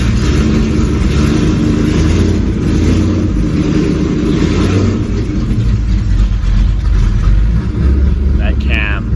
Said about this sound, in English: I want to do some revs for you guys